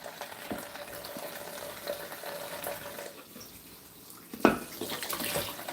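Kitchen tap running steadily while juicer parts are rinsed, a continuous hissing splash that shifts as items pass under the stream, with a brief louder clatter near the end.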